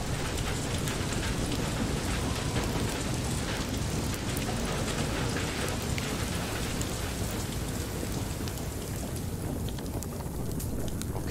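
Storm in the video game FAR: Lone Sails, with steady heavy rain and rumbling wind filling the scene loudly and continuously, a low thunder-like roar underneath, and no talking.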